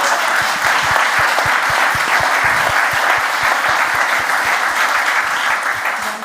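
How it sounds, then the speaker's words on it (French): An audience applauds Noémie and Marion during a Mulhouse television broadcast, a dense, steady wash of clapping that holds loud and even throughout, with sharp low thumps punctuating it in a regular pulse. "On applaudit Noémie et Marion"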